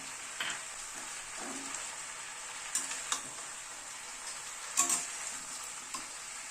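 Chicken is stir-fried in a pan with spices, vegetables and tomato for a thin coconut-milk chicken curry, giving a steady close sizzle with a few soft clinks and stirring scrapes.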